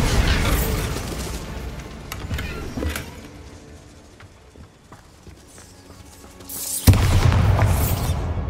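A Bombarda blasting spell detonates in Hogwarts Legacy, with loud booming bursts at the start and again near the end around quieter clattering and rumbling effects in between.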